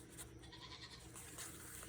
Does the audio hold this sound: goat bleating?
yes